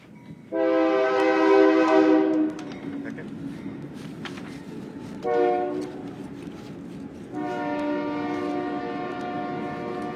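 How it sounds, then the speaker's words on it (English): A passing train sounds its horn in long, loud blasts, with a steady rail rumble underneath; people talk briefly over it. "Train. Oh, train."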